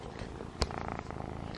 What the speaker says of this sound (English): Listen to those little purrs.